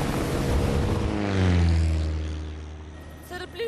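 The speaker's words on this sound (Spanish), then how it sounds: "incluso aviones que planean sobre el mar en busca de los grandes bancos" A propeller airplane flies low over the open sea while searching for tuna schools. The droning engine swells as it approaches, then its pitch drops and it fades away, with a brief voice near the end.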